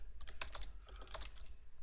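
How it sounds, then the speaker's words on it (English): Keys tapping on a computer keyboard in a quick, uneven burst of close clicks, fairly quiet, with no talking. "So I'm going to type in"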